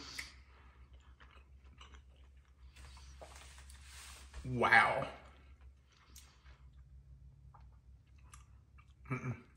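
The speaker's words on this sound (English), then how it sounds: "I can see you still chewing." Someone chews a glazed donut close to the mic with soft, quiet mouth sounds, then a brief crunchy bite near the middle, with a short spoken exclamation.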